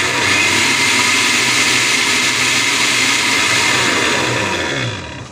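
A Bolde blender's 220-volt electric motor runs at speed setting 2 with a loud, steady, high whirring roar, then starts to wind down at the very end. No voices are heard.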